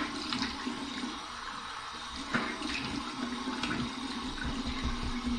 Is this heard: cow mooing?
no